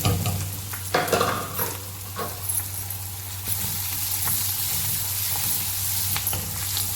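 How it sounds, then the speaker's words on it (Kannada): Strips of onion and carrot fry in a pan for veg pasta, a steady close sizzle with occasional stirring scrapes and clicks throughout, no voices. "ಈರುಳ್ಳಿ ಸ್ವಲ್ಪ ಫ್ರೈ ಆಗ್ತಾ ಬರುವಾಗ ಅದಕ್ಕೆ ನಾವು ಕ್ಯಾರೆಟನ್ನು ಸೇರಿಸ್ಕೊಳ್ಳೋಣ"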